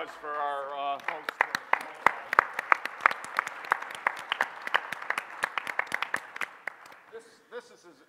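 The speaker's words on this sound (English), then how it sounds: "How about a round of applause for our host?" An audience at a conference panel claps for the host, a burst of distinct, lively hand claps that swells and then trails off, with a voice heard briefly at the start and again at the end.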